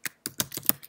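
Quick clicks of typing on a computer keyboard, about half a dozen crisp keystrokes in an uneven burst, close up.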